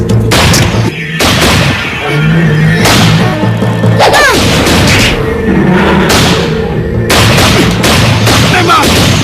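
Loud gunfire aimed at a giant lizard in an Indonesian fantasy TV drama: several sharp blasts and booming shots spread over nine seconds, with whooshing effects and some voices between them.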